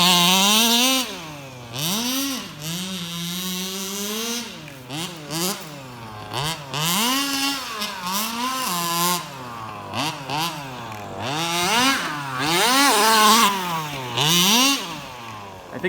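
A gas-powered HPI Baja large-scale RC car engine revs up and down repeatedly in loud, whining bursts, pitch climbing and falling with each throttle blip, with no talk over it.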